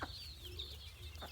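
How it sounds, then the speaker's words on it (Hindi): Chicks on a farm cluck and peep softly near their drinking water, giving faint, scattered chirps over a low background hum, with no talking. "चिक्स आ गए जैसे पानी पीने वहाँ"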